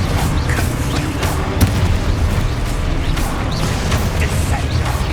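A Confringo blasting spell from a Hogwarts video game goes off amid a dense, continuous rumble of game explosions and booms, with one sharper burst standing out partway through.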